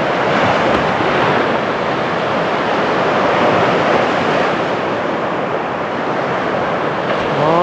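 Constant roar of breaking sea surf during a sea trout fishing outing, with wind buffeting the microphone, a dense, loud wash of waves that never lets up.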